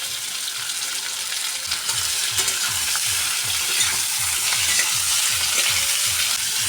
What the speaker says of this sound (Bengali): ভালো করে নেড়ে ছেড়ে আদা রসুনের কাঁচা গন্ধটা যাতে চলে যায়